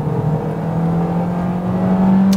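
A Toyota Corolla Altis 2.0 Flex with a gearless transmission accelerates at full throttle from about 60 toward 120 km/h, its engine holding a steady, strained drone that swells slightly near the end.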